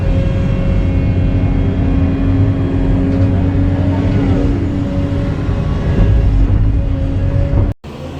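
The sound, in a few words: skid steer engine running while moving soil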